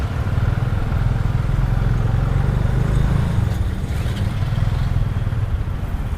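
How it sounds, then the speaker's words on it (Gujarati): A motorbike-pulled tuk-tuk driving along a road in Cambodia, a loud steady engine rumble with road noise, close and continuous. "આ રીતની ટૂકટૂક છે. બાઇક છે એની પાછળ, 2 વ્હીલર લગાવેલું છે."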